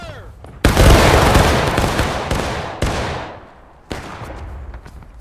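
Musket volley gunfire in the video game War of Rights: a loud, close volley bursts out and rolls away, then two more ragged volleys of shots follow, each crack trailing into a long echoing decay.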